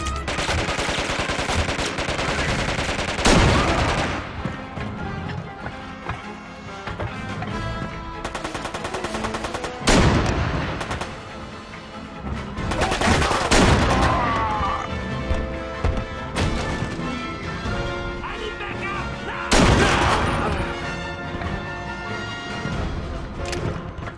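Gunfire in the Quantum of Solace video game, with loud bursts of shots repeating at intervals over a dense game soundtrack and effects.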